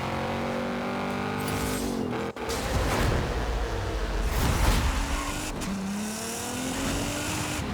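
Nissan GT-R engine during a Forza Horizon 5 race, a sustained revving roar that climbs through gear changes with rising pitch sweeps and a brief cut near the middle, loud and close, without speech.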